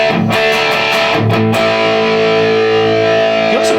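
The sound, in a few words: Metal Zone distortion pedal model, Boss Katana MkII amp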